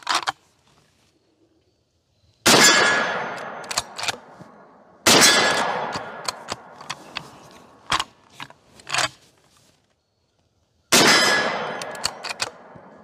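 A Ruger Model 96/44 carbine fires .44 Remington Magnum rounds outdoors, three loud sharp shots spaced several seconds apart, each trailing into a decaying echo, with metallic clacks of the action cycling in between.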